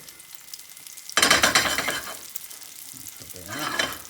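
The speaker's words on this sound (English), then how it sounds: "So I'll put the croutons in and start frying them." Croutons drop into hot bacon fat in a pan and burst into a loud, close sizzle that settles into steady frying crackle, flaring again near the end.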